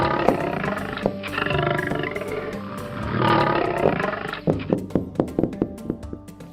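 Lions give deep, drawn-out roars that rise and fall, followed by a string of short, rhythmic grunting calls near the end, loud and close with no talking.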